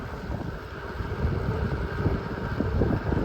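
Wind roars and buffets steadily across a microphone on Highway 24 heading east, a loud continuous low rumble with gusts that swell partway through.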